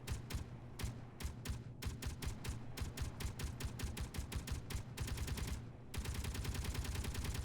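Rapid automatic gunfire shooting down a ship in the Space Engineers video game. Loud, sustained bursts of closely spaced shots with short pauses, then a continuous stream near the end, with no talking.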